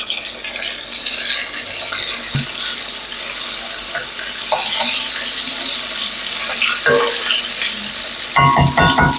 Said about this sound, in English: So I don't know if you could see it frying or not.